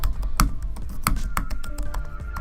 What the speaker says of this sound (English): Here's a listen at the keys.